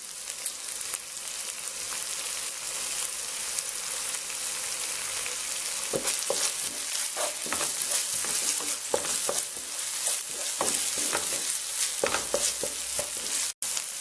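Chicken noodles are stir-fried in a pan with tomato sauce and chili flakes, giving a continuous loud sizzle broken by repeated scraping and tossing from the stirring.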